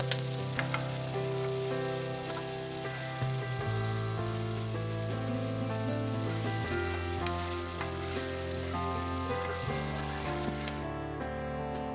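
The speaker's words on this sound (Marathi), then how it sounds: "आता आपण एक मोठ्या आकाराचा बारीक चिरून घेतलेला कांदा टाकून घेऊ व आता आपण या कांद्याला छान प्रकारे गुलाबी रंग येईपर्यंत तळून घेणार आहोत" Finely chopped large onion frying in a pan until pink gives a loud, steady sizzle throughout, with faint stirring scrapes and no voices.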